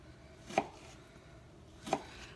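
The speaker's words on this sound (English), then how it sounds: "I'm just going to kind of cube it." Two separate knife chops through raw chicken on a cutting board, each a sharp close thud spaced over a second apart, with quiet in between.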